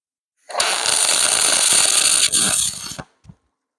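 Welding a bead onto a cast aluminum lawnmower part: a loud, steady crackling buzz starts abruptly, holds for about two and a half seconds, then cuts out, followed by a brief short burst.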